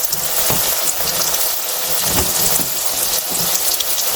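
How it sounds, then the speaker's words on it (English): Oil sizzling and bubbling steadily as samosas deep fry in medium-hot oil, a constant crackling hiss with small pops, close by and uninterrupted. "Now I am frying it, deep fry it."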